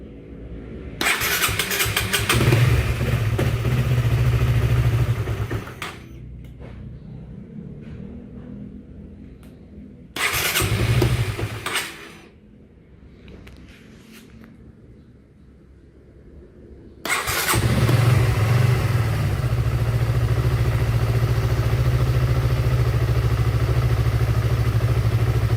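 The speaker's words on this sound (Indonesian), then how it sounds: "Tapi motornya harus digeber." A Honda CB150R motorcycle engine with a weak, fast-draining battery sputters to life and revs hard, cuts out, restarts briefly, then settles into a loud steady idle; no one speaks.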